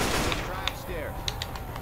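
Rapid gunfire rattles through a Left 4 Dead 2 versus match, a few sharp shots punching above a dense, noisy game mix while players talk.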